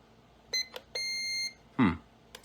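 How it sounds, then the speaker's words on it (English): A micro RC plane transmitter beeps close and fairly quietly: short chirps, then one long steady tone marking centered trim, and a lower, descending buzzing blip. "that long beep, that means that the trim is centered, and you can hear the tone descends"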